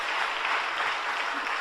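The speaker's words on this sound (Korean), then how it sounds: "오늘 통해 큰 은혜로 함께 하신 우리 좋으신 아버지 하나님께 감사와 영광의 박수 올려드립니다" A church congregation applauds together at a Friday overnight worship service in Miryang, a dense, steady wash of clapping that fills the whole moment without pause.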